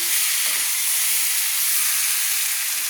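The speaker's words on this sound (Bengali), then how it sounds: "মশলাটা কষানো হয়ে গেছে।" Spice paste sautés in a pan for a cauliflower and fish curry, giving a steady, close hiss of sizzling with only faint stirring sounds beneath.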